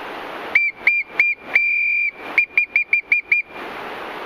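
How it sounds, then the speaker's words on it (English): A shrill hiking whistle blown outdoors on a Colorado mountain trail to warn off bears: a string of loud, sharp blasts, one held longer, then a rapid burst of short toots, with no talk. "So I'm going to blow the whistle."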